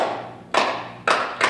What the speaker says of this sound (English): rhythmic clapping. So every time we got together for anything, we did the cardinal clap